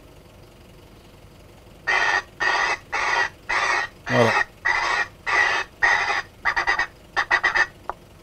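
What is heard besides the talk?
bird calls played from an airport bird-scaring device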